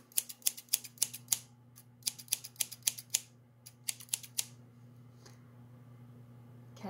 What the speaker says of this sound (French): C'est des ciseaux qui coupent!